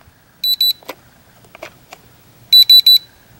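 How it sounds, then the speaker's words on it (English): A JJRC X1 drone fitted with a Xiaomi Yi camera emits sharp electronic beeps, a short pair early and then a clear triple beep, close and loud against quiet surroundings. "if you get that triple beep, you have to restart the entire thing"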